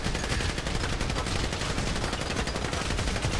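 Dense, continuous automatic gunfire from a bank robbery video game rattles without pause, loud and close, several weapons overlapping into a constant barrage.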